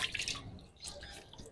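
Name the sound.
water dripping during ablution (wudu) washing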